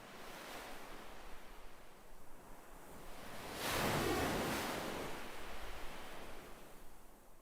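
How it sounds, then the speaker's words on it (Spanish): Ocean waves washing onto a beach, a soft continuous surf hiss that swells into one fuller breaking wave midway before easing back, calm and without voices. "Las olas se mecen perezosamente, llegando a la orilla con un murmullo relajante."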